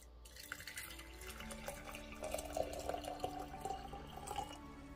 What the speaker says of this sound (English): the only thing I'm going to do is add some hot water to